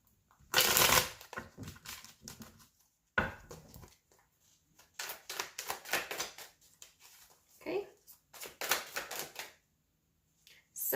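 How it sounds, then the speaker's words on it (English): Tarot cards are shuffled close up in several quick, crisp riffling bursts separated by short quiet gaps. "One more shuffle."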